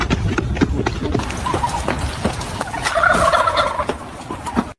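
Turkeys gobble loudly and close by in a rapid, repeated chorus. Rhythmic clopping footsteps run underneath them.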